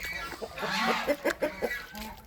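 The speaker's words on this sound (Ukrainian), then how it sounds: "Гуси кричать." Farmyard birds near Australorps and tall Cochins call out in a string of short, honking cries, several in quick succession, fairly close and loud, suggesting geese.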